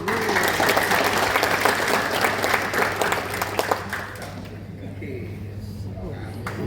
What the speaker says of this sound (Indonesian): kita kasih tepuk tangan sekali lagi Bapak Ibu